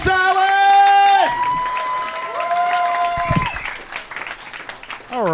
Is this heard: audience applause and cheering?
yes